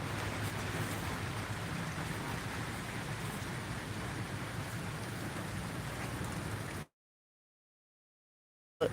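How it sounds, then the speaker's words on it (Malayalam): Steady rain pattering on surfaces at a farm, an even wash of sound that cuts off abruptly into silence near the end. "എല്ലായിടത്തും മഴയാണ്"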